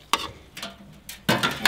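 A spoon stirs salt into water to make a brine: a few brief scraping, swishing strokes with short pauses between them, close and moderately loud.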